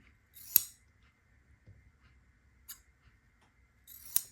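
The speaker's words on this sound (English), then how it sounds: "I'm going to go ahead and snip these so I can press them all at the same time." Scissors snipping apart chain-pieced quilt block units for a bee block, three sharp, close snips spaced a couple of seconds apart in a quiet room, with no talking.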